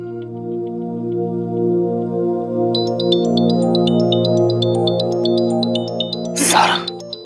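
A phone rings out while a call is placed, a steady electronic ringing tone joined partway by a quick repeating melodic trill, with a brief burst of noise near the end.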